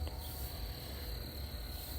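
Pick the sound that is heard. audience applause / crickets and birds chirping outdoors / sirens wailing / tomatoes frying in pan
crickets and birds chirping outdoors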